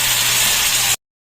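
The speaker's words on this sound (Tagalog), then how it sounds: "Ilagay natin yung Sprite guys." Sprite soda poured into a hot pan of cooking beef for a Visayan paklay dish, a loud steady hissing sizzle lasting about a second before cutting off abruptly.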